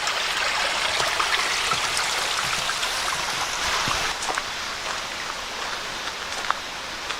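Water trickles steadily out at an old Civilian Conservation Corps camp in Pennsylvania, a soft continuous splashing hiss heard up close outdoors, with a few faint knocks.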